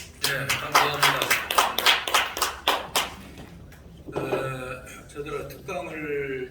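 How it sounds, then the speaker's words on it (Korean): An audience claps to welcome a speaker at a Korean church thanksgiving service for UN veterans' day, a short burst of applause for about three seconds that fades as a voice begins speaking. "박수로 환영하겠습니다."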